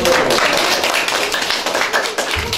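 Audience at a practical exam presentation bursts into steady applause, dense close hand-clapping filling the room without pause.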